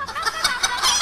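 A crowd at a Barney sing-along concert imitates hens and chickens, many voices clucking and squawking together in a brief, lively burst.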